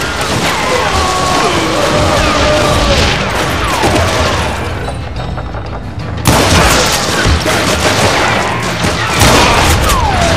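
Heavy gunfire and booming blasts from the Western shooter Call of Juarez: Gunslinger on PS3, loud and dense, with crashes and thuds rolling almost without a break and a short dip in the middle.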